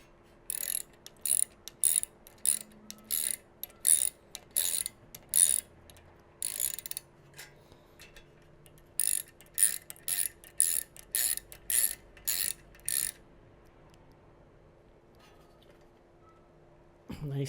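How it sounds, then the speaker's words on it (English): Two nuts on a bath fan motor mount are tightened with a ratcheting tool, producing bursts of crisp, rapid clicking close by, two runs separated by a pause, over a faint steady hum. "Now just tighten down these two nuts."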